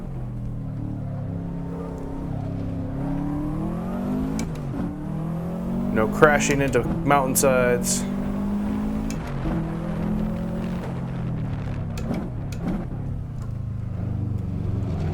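Subaru WRX with an Aphidgod tune racing up Pikes Peak in Assetto Corsa, the engine droning and revving through gear changes with a rising howl midway, steady under someone talking.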